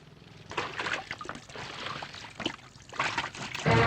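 Petrol is poured onto a motorbike, giving a close, fairly loud splashing pour of liquid with uneven gushes, followed by a short thump at the end.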